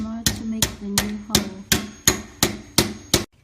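Hammer tapping a screw into cabinet door wood while fitting a new lock, eight sharp evenly spaced blows close up, each ringing briefly.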